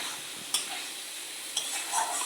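Curry for muri ghonto sizzles gently in a pan while being sautéed and stirred, with a couple of sharp scraping stir strokes over a soft, steady frying hiss.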